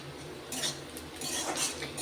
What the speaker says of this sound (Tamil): வெங்காயம் கொஞ்சம் நல்லா கோல்டன் ப்ரௌன் ஆகிறதுக்கு நம்ம வதக்கலாம்